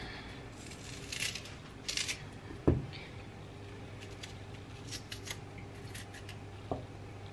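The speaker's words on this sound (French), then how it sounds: "Je vais venir couper un morceau et puis je vais éplucher un petit peu." A knife cuts and peels a piece of fresh ginger root, giving a few faint scraping strokes and one sharper chop against a quiet background.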